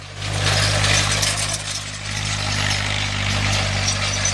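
A Ferguson TE20 tractor turning hay in a field, its engine running steadily at a low, throbbing idle-like drone with a slight lift in revs, close and continuous with no voices.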